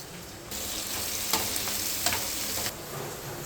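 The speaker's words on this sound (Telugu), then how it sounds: "ఒక 5 minutes వేయించుకోవాలి. వేగుతున్నాయి." Garlic, cumin and vegetables for a broad bean garlic chutney fry in a pan with a steady, loud sizzle, a few brief clicks of stirring breaking through the hiss.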